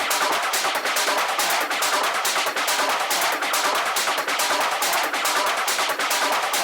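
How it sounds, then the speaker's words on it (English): Dense, fast mid-range metallic percussion loops in a hard melodic schranz techno track clatter continuously in a tight repeating rhythm, bright and busy with little low end. "a lot of little bits of mid-range percussion generally, carefully selected so that the sounds sit together fairly well"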